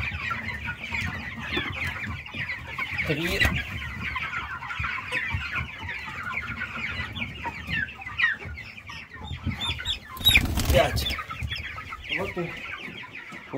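Busy peeping and clucking from young chicks in a brooder fills the clip, with a brief voice and a short loud burst partway through.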